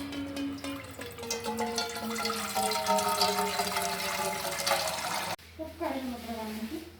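Water runs and splashes into a saucepan for making tea, a continuous close pouring sound with a rising pitch as the pan fills, briefly cutting out and resuming near the end.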